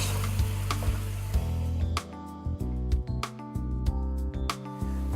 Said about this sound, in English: So I'm going to give that 1 more stir